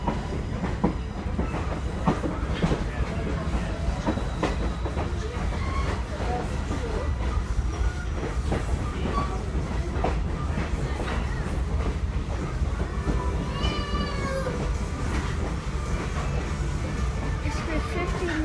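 Steady rumble of a Great Smoky Mountains Railroad excursion train rolling on rails through the Nantahala Gorge with rhythmic clickety-clack, loud and continuous, with faint squeals and a murmur of voices underneath.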